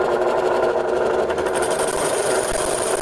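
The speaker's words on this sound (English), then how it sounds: "because I've got a large disc on here, I've slowed the machine down to give me a little bit more control." A Ring Master lathe running at reduced speed while turning a large disc into a picture frame, a steady mechanical whir and hum that stays constant and close, with no talk.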